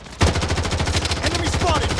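Rapid automatic gunfire in the Blood Strike shooter game, a dense rattling burst that starts abruptly and continues steadily and loud to the end, with faint game voice cues underneath.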